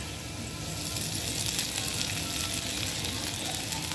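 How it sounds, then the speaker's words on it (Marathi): Poha (flattened rice) tipped into a hot kadhai, with a dense, steady sizzle and faint stirring close by, loud and continuous. "आता हे आपण पोहे कढईमध्ये टाकू"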